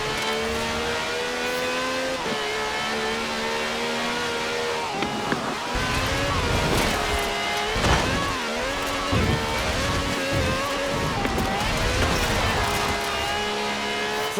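V12 car engine of over 750 horsepower in Forza Horizon 4, a steady loud drone with rising and falling revs as the car drives, with occasional tire noise and no talking over it.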